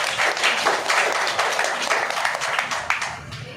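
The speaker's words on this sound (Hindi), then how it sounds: "सब लोग ताली बजाकर उनका स्वागत" A church congregation clapping together to welcome first-time visitors, a sustained burst of many hands applauding indoors, loud and rhythmic at first and tapering slightly toward the end.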